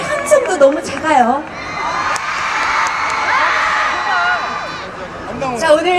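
An audience at a live stage show for a singer cheers and shouts in a loud, continuous roar. High whooping voices rise above the din, with a brief swell near the start and the end.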